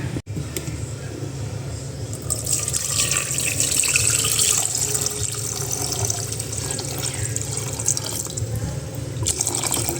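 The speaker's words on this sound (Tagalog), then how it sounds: "We will put some water." Water poured into a cooking pot of chicken feet, a steady close splashing and gurgling stream that fills and swells in the middle before tapering off, with no talking.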